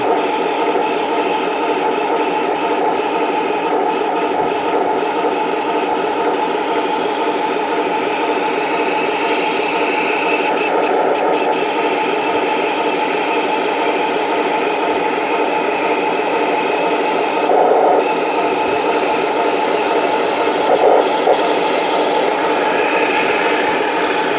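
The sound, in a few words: model Panzer III tank brass gearbox running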